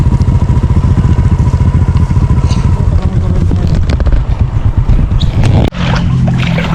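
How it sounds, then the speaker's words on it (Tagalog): A motorcycle engine runs loud and close with a steady rumbling throb, a sharp clunk near the end as the tone shifts. "Sanay naman yung motor ko sa baha."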